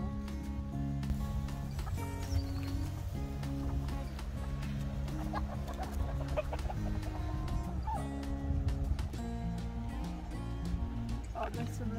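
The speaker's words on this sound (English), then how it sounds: "let's go and have a look at the chickens" Hens cluck steadily among other farmyard noise and a dense, continuous background, with people talking now and then.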